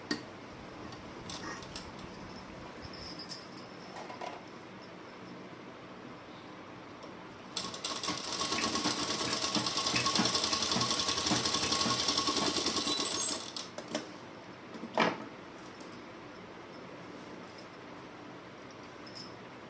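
A sewing machine runs a steady stitching burst of about six seconds along a half-inch seam joining the lining of an organza suit, with quieter handling clicks before and after.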